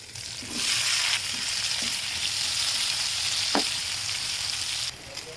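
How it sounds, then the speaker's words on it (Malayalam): Green chillies sautéing in hot oil in a pan for an Andhra-style dish, a steady loud sizzle with a few soft stirring scrapes, no talking. "ഇനി നമുക്ക് പച്ചമുളക് ഒന്ന് വഴറ്റിയെടുക്കാം ഓയിലിൽ"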